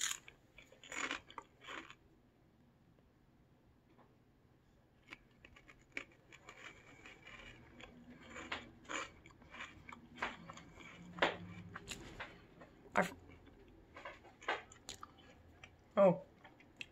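Close crunchy chewing of roasted lentils, with irregular bites and crackling crunches standing out over a quiet background.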